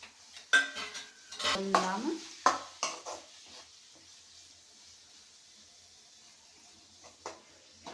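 A utensil stirs fenugreek leaves and tomatoes in a pan, giving a few close scraping and clattering strokes in the first three seconds before the sound fades to a faint, quiet cooking hiss.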